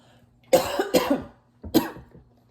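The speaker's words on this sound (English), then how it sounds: "As soon as I said that, I started coughing." Three short, rough coughs in close succession, near and fairly loud, with a brief pause before the last one.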